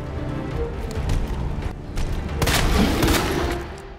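Rapid bursts of gunfire from the Resident Evil 2 video game crackle loudly, a dense volley that swells in the middle and trails off with no talking.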